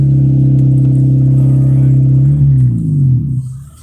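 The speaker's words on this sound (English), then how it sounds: "let's see if I can get my car moving" A car engine runs with a strong, steady low drone, then its pitch shifts and wavers near the end as the car gets moving, up close from inside the vehicle.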